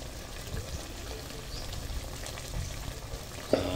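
Sliced onions fry in a pan of bangus fish steak, giving a soft, steady sizzle and crackle with faint bubbling. A brief clink sounds near the end.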